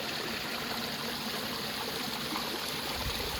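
Steady broadband rush of a stream and small waterfall flowing over rocks near a Thai temple in the hills, continuous and close, with no talking.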